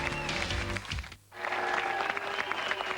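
A crowd applauding at a professional bowling match, loud sustained clapping and cheering with a brief dip before swelling again, heard close and full.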